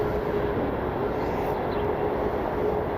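A CRJ regional jet taxiing at Cleveland Hopkins International Airport, giving a steady, continuous engine roar with a faint high whine, constant and moderately close throughout, with no voices.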